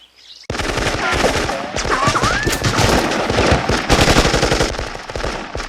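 Machine-gun fire in a video game machinima battle: after a brief quiet start, loud, rapid automatic bursts rattle continuously, layered and nearly unbroken to the end.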